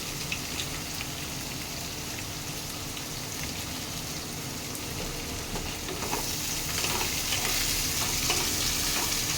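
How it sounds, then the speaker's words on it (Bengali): Diced potatoes and chopped onion fry in hot oil in a pan, a steady dense sizzle with bursts of crackling, close and continuous with no talking. "তাহলে আলুটার সাথে পেঁয়াজটাও ভাজা ভাজা হয়ে যাবে।"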